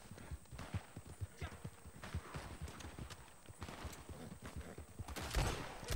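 Horse hooves clip-clop in a bounty-hunter video game, a quick, steady run of hoofbeats close by, with a few sharp gunshot-like bursts rising near the end.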